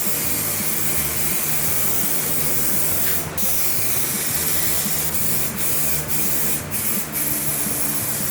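A spray can hisses loudly and continuously, with a few brief breaks, as filler primer goes onto a Dodge Charger R/T car bumper close by.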